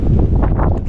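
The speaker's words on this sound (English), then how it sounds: "Can't do much talking because it's very windy" Heavy wind at the pyramids of ancient Memphis buffets the microphone, producing a loud, low, continuous rumbling roar.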